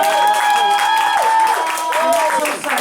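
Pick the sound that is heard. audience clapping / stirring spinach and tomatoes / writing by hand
audience clapping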